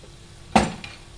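A single sharp clatter from a cooking pot as rice flour goes into boiling water, one loud close knock followed by a softer scrape, then quiet.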